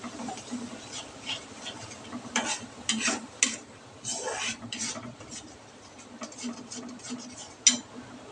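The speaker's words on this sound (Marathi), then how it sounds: "आपला मसाला तेल सोडेपर्यंत ना आपल्याला तळून घ्यायचा" Pav bhaji masala fries in oil with a soft crackle underneath while a spoon scrapes and stirs the pan in irregular bursts, with several sharper clinks near the end.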